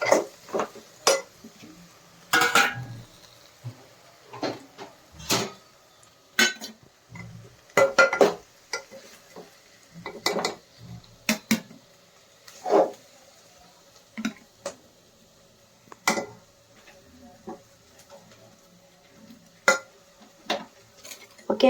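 A spoon stirs cabbage keema fry in a pan in close, sparse strokes of scraping and tapping against the metal. Quiet pauses fall between them.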